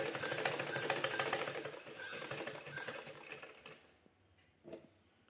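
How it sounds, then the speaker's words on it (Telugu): A sewing machine stitches blouse fabric with a lining, running in a steady, rapid, close mechanical whir for about four seconds before stopping, followed by a soft clack. "దీని మీద ఇలా స్టిచ్ చేసుకోండి."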